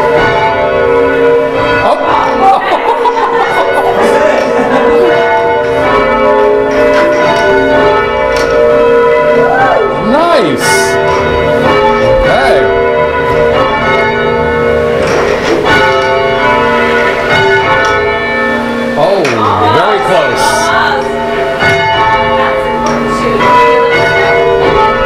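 Church bells in the Hingham Memorial Bell Tower ring loud and sustained, strokes overlapping into a dense, continuous peal with long resonant hums, and no talking.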